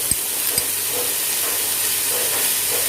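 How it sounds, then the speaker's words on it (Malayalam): Crushed garlic, ginger and about ten green chillies sautéing in a pan for fish biryani, a steady close sizzle and hiss with a couple of light stirring knocks at the start. "ഒരു 10 പച്ചമുളക് ചതച്ചത്, എല്ലാം കൂടി നമുക്ക് നന്നായിട്ട് വഴറ്റിയെടുക്കാം."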